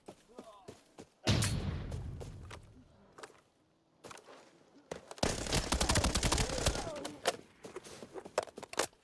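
Gunfire from a favored weapon in a first-person shooter match, with loud close bursts of rapid automatic shots, separate single cracks and short pauses between volleys.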